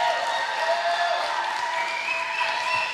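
Steady applause from an auditorium audience at a radio station's World Cup football talk show in Semarang, a dense continuous wash of clapping at moderate level with no talk over it.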